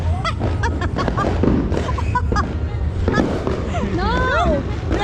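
New Year's Eve fireworks burst continuously in a dense, loud barrage of crackles and bangs, with whistling rockets rising near the end, while people talk and call out greetings over the noise.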